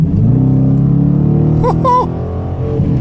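A 2019 Dodge Challenger R/T accelerating from inside the cabin, a loud steady engine drone rising in pitch, with a brief voice partway through.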